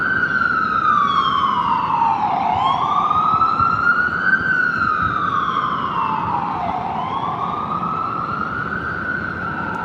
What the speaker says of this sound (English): New York City, you're going to hear that all day. Ambulances, police, and fire truck.